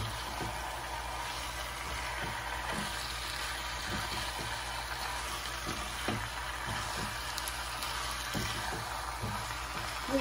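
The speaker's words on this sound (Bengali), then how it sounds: "সবগুলি এখানে একটু নেড়ে চেড়ে দিই" Malabar spinach and hilsa fish curry sizzling and frying steadily in a pan, with soft intermittent stirring knocks over a constant close hiss.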